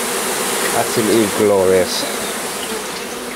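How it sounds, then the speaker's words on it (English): Honey bees buzzing around a few rooftop hives on a warm day, a steady soft hum behind a brief spoken remark. "Got a few hives up there on my roof and they've been working really well"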